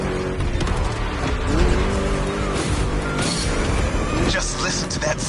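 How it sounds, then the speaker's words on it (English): A V8 race car engine in a video game roars through gear changes and revs, with tire squeals and skids among the thick engine noise, while a voice talks over it throughout. "Just listen to that V8 like a chonky, down-tuned guitar riff"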